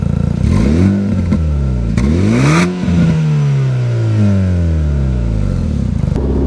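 A Renault Megane diesel engine revs up and down repeatedly, rising and falling in pitch, loud and close with a clattering edge.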